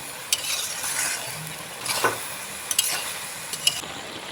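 Ash gourd cooking with mung dal in a pan is stirred with a utensil after salting, giving soft sizzling beneath a series of scraping, clinking strokes spaced out over a few seconds.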